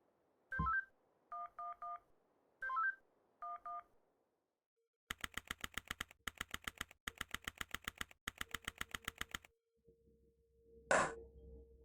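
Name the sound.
telephone dialing in Henry Stickmin video game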